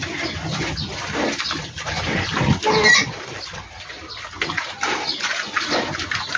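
Fattening pigs feed on copra meal, making close, wet slurping, chomping and snuffling sounds with irregular bursts and some low grunts.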